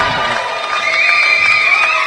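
A packed crowd roars and cheers continuously and loudly at the final of the La Sportiva BMC British Bouldering Championships 2021, a dense, sustained wall of noise with shrill shouts rising above it.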